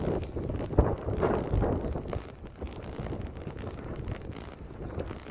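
Gusty wind blows outdoors beside a garage, buffeting the microphone in a loud, roaring, uneven rush that swells and eases without a break.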